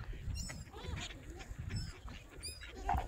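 Swans, ducks and gulls clamour at a feeding spot by a river, with overlapping honks, quacks and cries from several birds at close to middle distance and a voice briefly audible.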